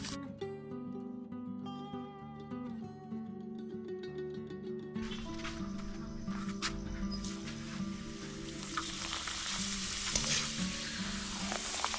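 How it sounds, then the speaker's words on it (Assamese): Small papads fry in hot oil for homemade dalmoth, a dense crackling sizzle that grows louder and fuller after a calmer opening with a tonal hum, close by and without speech. "ধুনীয়াকৈ পাপৰ ভাজিয়ে আছে"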